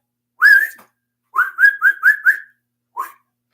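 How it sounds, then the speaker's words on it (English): A person whistles to call a pet indoors: one rising note, then a quick run of four or five short bright chirps, then a last single short whistle, clear and close with silence between. "You come to the whistle?"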